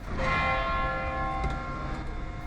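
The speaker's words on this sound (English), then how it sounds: "We are about to hear the bell chime of the clock." The bell of the Torre delle Ore clock tower in Lucca, Italy, strikes with a ringing, sustained tone whose overtones hang in the air over faint outdoor background noise.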